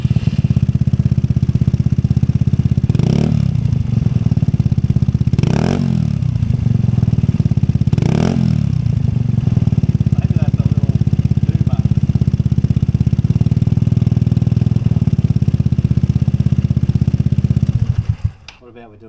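A scooter fitted with an aftermarket AliExpress exhaust runs loud and close at a steady idle, blipped up into three sharp revs before cutting out near the end.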